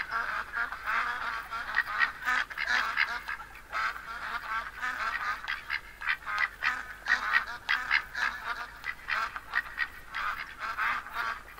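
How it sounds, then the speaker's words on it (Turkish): Ducks call repeatedly in the video game The Hunter: Call of the Wild after landing, a steady stream of overlapping quacks and honks at moderate distance, with no talk over them. "ördeklerimiz indi"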